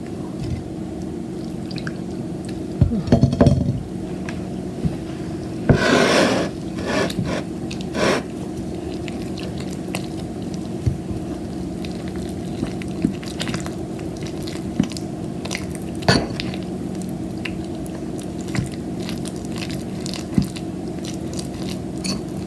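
Thick henna paste being mixed in a bowl for hair dye, giving soft wet squishing and scraping strokes that come close and moderately loud, with a few louder mashing bursts.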